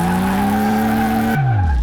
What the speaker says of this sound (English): Yeah, we're just smoking the tires.